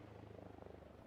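A faint, steady rotor thrum of a video-game helicopter, its low pulsing chop continuing evenly throughout the short moment.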